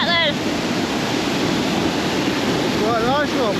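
A waterfall in Norway, with people standing close beneath it, roars as a loud, steady broadband rush throughout, with brief voices at the start and near the end.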